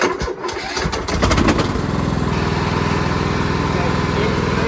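A Cub Cadet LTX1045 lawn tractor engine cranks briefly, catches and settles into a steady, close, loud running rumble.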